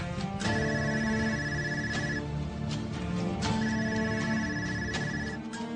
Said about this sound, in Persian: زود به تلفن جواب ده آخر.